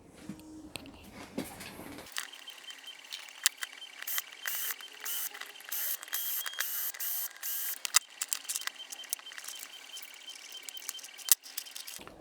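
Screws are backed out of the rear axle housing of a Traxxas Unlimited Desert Racer with a power driver, giving close, rapid ratcheting whirs in repeated short bursts separated by small clicks.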